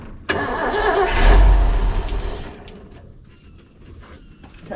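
An old Ford pulled from a pasture cranks and fires with a sudden start, revs into a loud swelling roar, then drops back to a quieter rough idle, heard up close.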